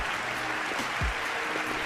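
A crowd applauds the player of the season during an EA FC 26 award cutscene, a brief, dense wash of clapping with no voices.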